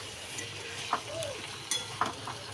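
Squash, tomato, ripe chillies and peas are stirred in a pan, with a soft steady sizzle and a few sharp scrapes and clinks of the spatula against the metal, fairly quiet and close.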